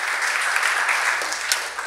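Audience clapping in a church gathering, a dense steady burst of applause that holds evenly for a couple of seconds.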